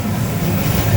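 Inside the Serayu passenger train while it runs, a dense, steady low rumble with rolling rattle fills the cabin closely and loudly, with no voices.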